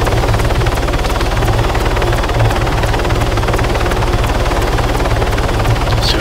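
An attack Hummingbird helicopter in the game Arma 3 flies with a loud, steady rotor thump and turbine whine that stays close and continuous throughout.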